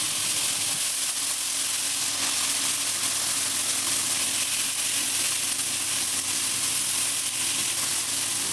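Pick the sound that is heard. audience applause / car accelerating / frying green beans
frying green beans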